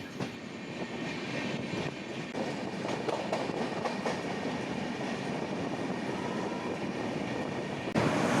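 A train pulls out of Siliguri Junction with a steady, close rumble and rattle of the carriages that holds constant throughout, with a slight swell near the end and no voices.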